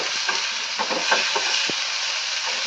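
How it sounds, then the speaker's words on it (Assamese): Onion sizzling in a pan during vegetarian home cooking, a steady bright hiss of frying with occasional scraping stirs of a spatula, close and alone without talk. "এইটো জাষ্ট অকণমান জাষ্ট সিজিলেই হ'ল"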